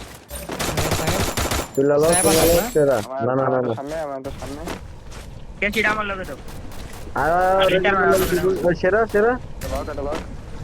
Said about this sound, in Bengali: আরে স্নাইপার মারছে স্নাইপার